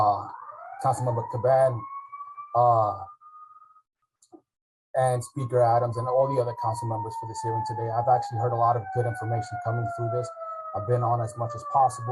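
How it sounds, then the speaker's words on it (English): Sirens wail with slowly falling pitch in the background in Midtown Manhattan, New York City, steady and moderately loud, beneath someone speaking continuously close to the microphone. "Excuse the sirens as we're in Midtown."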